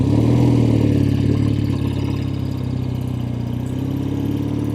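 A Triumph TR6R 650 motorcycle engine drones steadily on a test ride, a loud close throbbing hum with slight rises and dips in pitch, wind rushing over it throughout.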